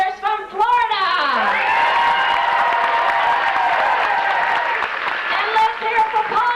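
Aboard a 1995 cruise, an audience cheers, whoops and applauds for contestants in an Elvis impersonation contest. A loud, sustained swell of voices rises and falls, with an announcer's voice mixed in.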